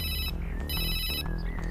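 A phone ringtone in a Bhojpuri movie plays a bright, electronic melody in two bursts, clear and fairly close, with no talking.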